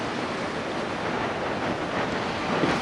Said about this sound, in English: Wind quite a bit in his face now and out of the right.